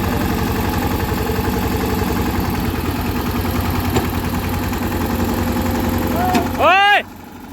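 A tractor engine runs steadily at light throttle, a loud, close, even idle-like drone that holds throughout, with a short rise in pitch near the end and no speech over it.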